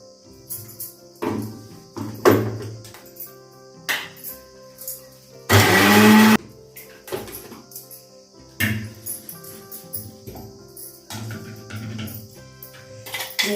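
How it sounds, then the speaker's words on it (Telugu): A mixer grinder whirs loudly in one short burst of under a second while blending a yogurt chutney, amid clattering kitchen sounds and quiet background noise. "ఇప్పుడు దీన్ని మిక్సీ పెట్టండి."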